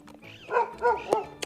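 A dog, Cherry, barks several times outdoors while out on a walk with other dogs, three or four sharp barks at mid distance, fairly clear over a quiet background.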